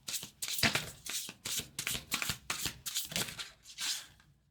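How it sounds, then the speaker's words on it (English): A deck of tarot cards shuffled by hand in rapid, repeated riffles and flutters, close and steady, fading out at the end. "One more shuffle, please."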